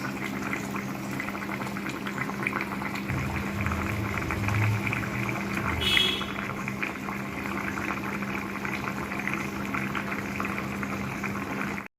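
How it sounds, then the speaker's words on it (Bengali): Rohu fish curry with potato and bori simmers in a pot, a soft continuous bubbling hiss at low level with a brief clink near the middle. "ফুটিয়ে নিয়ে আর সার্ভ করবো।"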